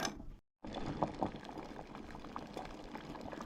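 Mixed dal simmering in a pot in a Goan village kitchen, a soft continuous bubbling and burbling at low volume, with a brief dropout near the start.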